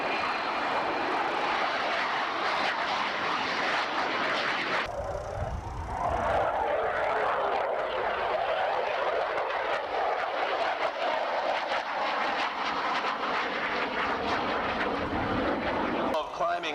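A military jet airplane at an airshow roars overhead with a loud, continuous engine rumble that swells and shifts as it passes. It sounds fairly close and fills the whole stretch with steady noise.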